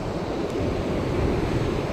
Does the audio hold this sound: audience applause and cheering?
no